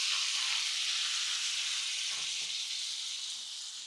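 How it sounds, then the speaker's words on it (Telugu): Thinly sliced medium onions fry in oil with a steady, close hiss that fades slightly toward the end, and a faint clink partway through. "ఇవి 3 మీడియం సైజు ఉల్లిపాయలని ఇలా సన్నగా కట్ చేసుకొని ఇవి ఆయిల్లో వేసేసుకోవాలి"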